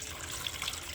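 A glass of clean water is poured into a blender jug over mint leaves, carrot and lemon pieces, giving a brief, steady splashing gush of liquid with no talk.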